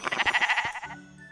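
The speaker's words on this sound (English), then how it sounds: "there's giant fluffy rainbow sheep in here." A giant fluffy rainbow sheep in Minecraft lets out a single loud, close, wavering bleat that trails off into a faint tonal shimmer.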